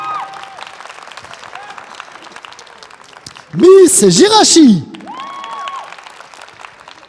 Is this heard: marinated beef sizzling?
no